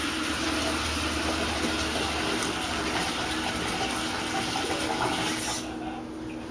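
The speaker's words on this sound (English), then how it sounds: "My daughter is running water, so I don't know if you can hear me." Steady broadband rush of water running from a kitchen tap during dishwashing, continuous and fairly close, cutting off near the end.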